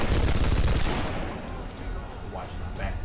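Rapid gunfire bursts from a Tomb Raider free-for-all multiplayer match, loud and dense for the first second, then thinning into sporadic shots under game noise and voices.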